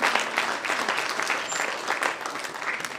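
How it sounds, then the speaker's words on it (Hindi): Dense clapping from a theatre audience at a stage production, continuous and fairly loud over a few seconds with no voices on top. "तालियों में कुछ कमी दिख रही है।"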